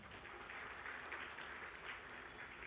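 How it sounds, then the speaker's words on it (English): A crowd applauds steadily, dense clapping from many hands, heard from a moderate distance and fairly faint, with no voices on top. "Let us give everyone a big round of applause."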